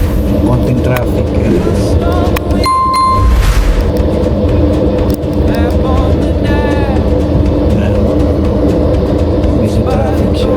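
Road traffic on the way to Sapa, heard from inside a moving bus: a steady low rumble of engine and road noise throughout, with passing vehicles, a brief tonal horn-like blare, and people talking over it.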